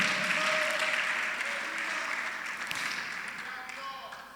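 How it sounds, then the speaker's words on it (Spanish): A church congregation applauds during a sermon, a steady wash of clapping heard somewhat distant and fairly quiet, thinning slightly toward the end with faint voices underneath. "Denle un aplauso al Señor, hermano."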